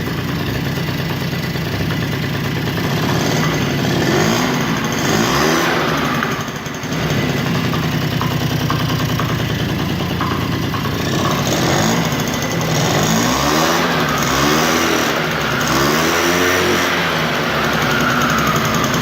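A small 50cc Mini Rex scooter engine runs on test with its rear drive section working. It gives a rattly, buzzing idle that rises in a few rev sweeps, heard up close.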